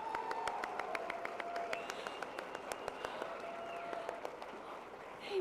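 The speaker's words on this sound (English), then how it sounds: "Can we give them one more round of applause?" Faint, thin applause from a gala audience thanking a faculty choir, a light scattering of claps heard at a distance under a quiet room hum with a few faint tonal sounds.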